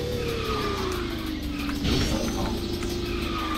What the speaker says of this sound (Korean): 드리프트 감속 가자